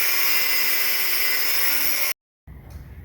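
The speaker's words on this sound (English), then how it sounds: "cut them down with the cutoff disc on the angle grinder" Angle grinder with a cutoff disc cutting steel rods makes a loud, steady, high-pitched whine close by for about two seconds, then cuts out abruptly before faint rustling handling noise follows.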